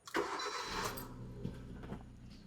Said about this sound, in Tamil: வண்டியோட இன்ஜினை நம்ம ஸ்டார்ட் பண்ணிட்டோம்